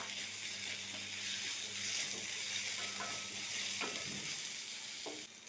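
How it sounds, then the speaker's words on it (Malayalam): Ginger and garlic frying in a pan while being stirred: a steady, close hiss of sizzling oil runs throughout, with occasional soft scrapes and clicks of the spoon, and no voices. "ഞാൻ നന്നായി ഇളക്കുക"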